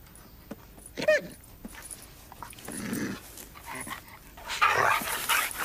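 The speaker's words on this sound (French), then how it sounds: "Sortez ce chien d'ici." A dog in a French drama film gives a few short barks and yelps amid background noise, some sharp and near, others fainter and scattered.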